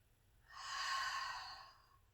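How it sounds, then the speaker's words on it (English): A single slow, soft breath during a yoga class, swelling and fading over about a second and a half against a quiet room with faint low hum. "One more breath."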